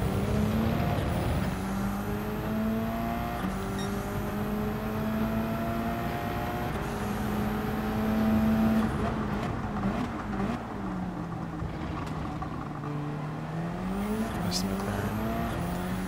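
A Subaru BRZ racing in Gran Turismo 7, its engine droning loudly and steadily with rising and falling pitch through gear changes, plus a brief squeal near the end.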